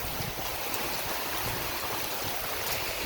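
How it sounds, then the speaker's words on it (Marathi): Heavy rain pours down steadily over a village, a dense, even hiss that fills the whole stretch without a break and with no voices. "लय भरपूर पाऊस आहे"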